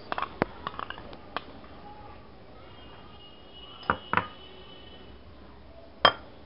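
Spices and chili sauce get mixed in a bowl, a sequence of sharp clinks and taps from a utensil against the dish, clustered at the start and then sparse, close and fairly quiet.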